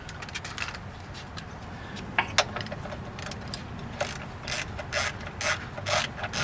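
Tools work loose a transmission line fitting on a 4T65E transmission, giving a series of close ratcheting clicks and small metallic taps over a low background hum, with no talking.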